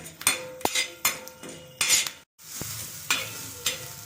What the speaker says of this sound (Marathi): आपण हरभऱ्याची डाळ भाजून घेऊया